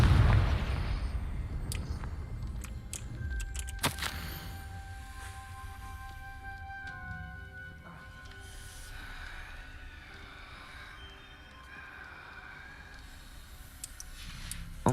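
A Confringo blasting spell from a video game fires off with a loud low boom at the start, followed by scattered crackling bursts and a lingering ringing tail of magical effects.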